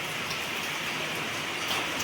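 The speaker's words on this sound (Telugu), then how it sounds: "నీ దొంప దగ్గర వర్షం ఎక్కువైపోతుంది" Heavy rain pours down in a steady, even hiss of drops drumming on surfaces, moderately loud and continuous with no voices.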